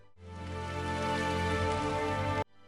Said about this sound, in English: Rain, we love rain.